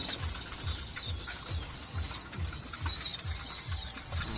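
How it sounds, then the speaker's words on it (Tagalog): Pigeons feeding and cooing in a steady low rhythmic pulse, several birds close by, with a high hissing buzz of insects or ambience above. "Pakain tayo mga kalapati natin mga tol."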